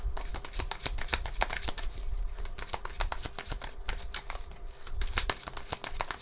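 Tarot cards being shuffled, a fast run of crisp papery riffles and flicks in repeated bursts, close and fairly loud, with no talking over it.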